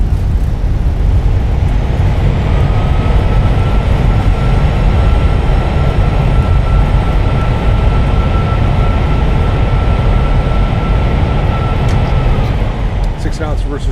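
Fenix A320 with IAE engines in Microsoft Flight Simulator on landing rollout, engine reverse thrust making a loud, steady, broadband roar that holds throughout, while a voice speaks over it.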